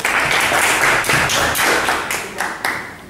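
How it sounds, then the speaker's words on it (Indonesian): A classroom of students claps for a classmate, a burst of dense, overlapping hand claps close by that thins out and fades over a few seconds. "Kita tepuk tangan untuk Wisnu jawabannya."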